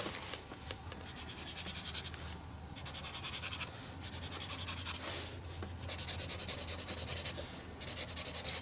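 A pen scribbles on paper up close, in quick repeated scratchy strokes with short pauses between bursts, fairly quiet and with no voices.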